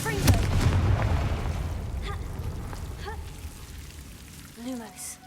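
A Confringo fire spell blasts in Hogwarts Legacy with a heavy boom up front and a rumbling decay. A voice speaks lightly under it, and a softer sound comes near the end.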